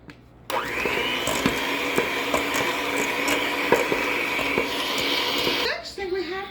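An electric mixer creaming brown sugar for a maple walnut cake, starting abruptly with a loud, steady motor whine that runs for about five seconds before winding down, with faint clicks of the beaters against the bowl.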